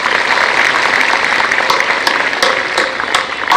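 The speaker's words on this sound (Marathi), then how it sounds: "टाळ्या वाजवा" Schoolchildren at a high school gathering clap together in a loud, close, steady burst of hand claps that carries on evenly for a few seconds.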